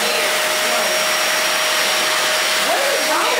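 A household vacuum cleaner runs steadily throughout with a loud, constant whine and broadband roar. Faint voices sit beneath the motor noise.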